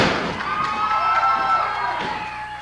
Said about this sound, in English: Listen to the crowd here in the Ohio Valley. They're screaming at Trailer Park.